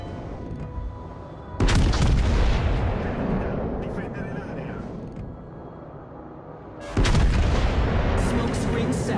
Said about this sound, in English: Concentrate fire on the enemy warship, like the Kraken's tentacles closing in.